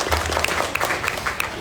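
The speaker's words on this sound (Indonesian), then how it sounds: "Tepuk tangan." An audience at a village community meeting with the Bandung regent in Cangkuang, Rancaekek, applauds: brief, steady clapping from a crowd, fairly close and even, with faint murmuring underneath.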